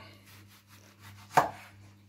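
A single sharp knife chop through a tomato on a cutting board, close and crisp against a quiet kitchen hum.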